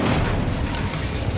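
A fire spell cast in the Hogwarts Legacy video game bursts as a loud, dense roar of crackling flame and rumble, sustained evenly for about a second and a half with no voices.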